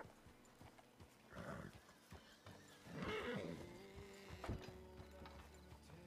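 A horse in a western roleplay video game neighs loudly while its hooves clip-clop and thud irregularly nearby, with a clattering knock and game ambience around it.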